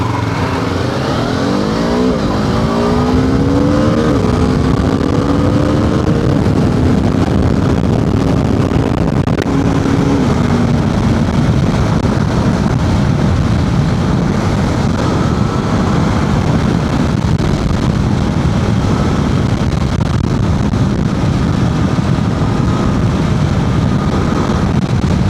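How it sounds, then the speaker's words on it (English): A BMW F 450 GS motorcycle pulls away hard from traffic lights, its engine rising through rapid upshifts into a loud, sustained roar with heavy wind rush, heard from the rider's position and without talk. "we're gonna try and do a pull up from the traffic lights"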